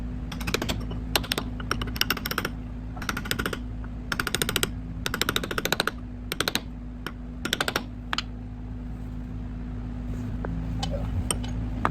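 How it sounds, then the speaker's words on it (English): Quick bursts of light metallic tapping as a hammer and flat chisel seat a tractor PTO seal, in rapid clusters with short pauses, over a steady low hum, then trail off into quiet. "use a hammer and a flat chisel to get it the rest of the way"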